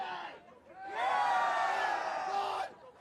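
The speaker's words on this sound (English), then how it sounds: "the crowd is absolutely hyped for a big day" A large crowd at a League of Legends esports event roars and whoops in a sustained cheer lasting a couple of seconds, swelling loudly after a brief lull, with a voice audible near the start.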